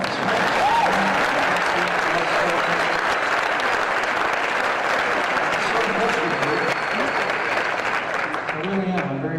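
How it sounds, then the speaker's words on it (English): Loud, sustained applause and cheering from a large crowd at a political rally in Phoenix, Arizona, filling the whole stretch with dense clapping and scattered shouts. "Give her a round of applause."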